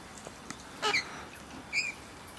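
A king parrot gives two short, sharp squawking calls about a second apart, fairly faint and close against a quiet background.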